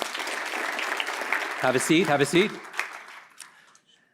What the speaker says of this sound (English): All right, clap if you went further a second time.